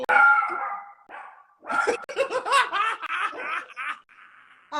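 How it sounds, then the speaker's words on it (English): A dog barks and yelps in a quick, uneven run of loud, close calls, mixed with snickering, laughter-like sounds and short pauses. "As soon as we got on, I knew he was going to start barking."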